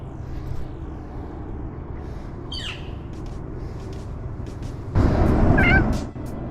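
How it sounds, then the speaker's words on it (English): A cat gives a couple of short, rising meows outdoors, the second louder, over a low rumble of passing traffic. "I saw the cutest cat."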